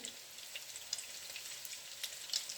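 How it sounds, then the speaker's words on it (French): Portuguese salt cod fritters frying in oil, a soft, steady sizzle with scattered small pops and crackles, quiet and close, with no talking. "Alors, on les laisse frire de ce côté-ci maintenant."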